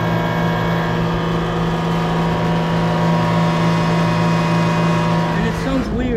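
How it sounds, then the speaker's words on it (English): An HVAC compressor in downtown Orlando runs with its condenser fan not working, giving a loud, steady, close droning hum with a strong low tone that holds throughout and shifts briefly near the end. "Okay, so this compressor just now turned on, but the fan was not on"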